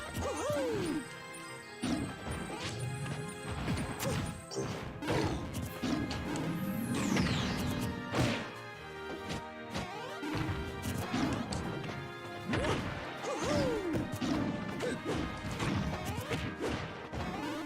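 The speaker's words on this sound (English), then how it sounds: "I need to stop up smashing." Up smash attacks land in a fighting video game during an online match, bursts of crashing hits and whooshes mixed with game music and effects, loud and continuous throughout.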